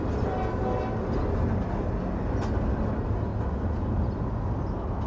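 Amtrak Acela trainset running on the Keystone Corridor during mileage testing, a steady loud broadband rumble of wheels and rail noise held for the whole stretch with no horn or voices.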